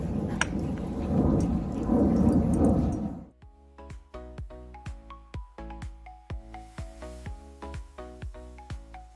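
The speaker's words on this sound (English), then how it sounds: "the rain is coming. It is going to rain for a couple days" A thunderstorm rolls in over a garden with a deep rumble and rain hiss for a few seconds, then gives way to a sparse sequence of sharp, ringing drip-like tones.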